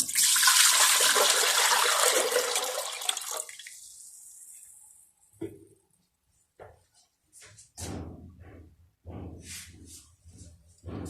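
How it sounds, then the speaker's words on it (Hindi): A jug of water gushes loudly into a metal pressure cooker for about three seconds, then tapers off into quieter clinks and handling sounds. "छलियाँ बॉयल करने के लिए सबसे पहले मैं प्रेशर में पानी डाल रही हूँ 1 जग"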